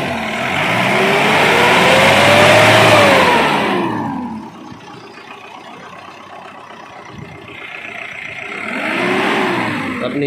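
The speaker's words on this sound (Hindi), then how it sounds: "फाइनली गाड़ी हो गई है स्टार्ट।" A car engine at an automobile workshop in Satna roars as it revs, rising and falling in pitch through a long loud rev, settling briefly, then revving again near the end.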